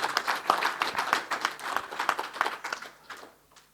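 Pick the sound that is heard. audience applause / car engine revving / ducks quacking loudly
audience applause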